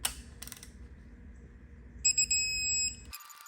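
A digital torque wrench set to 25 newton meters beeps while a bolt is torqued during a rebuild of a wrecked 2022 BMW M4 engine. Its steady tones sound near and fairly loud over low workshop rumble, with a few sharp clicks.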